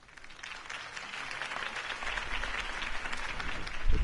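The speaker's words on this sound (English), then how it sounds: "If only Mr. Wayne, my campaign's largest backer, could have heard that applause" Applause from a crowd in a Batman video game swells steadily, a dense wash of clapping growing louder over a few seconds.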